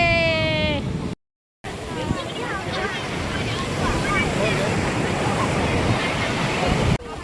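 Sea waves on Azheekal beach make a steady, loud wash of surf with wind buffeting the microphone. A brief cutout comes near the start, and a voice speaks at the opening.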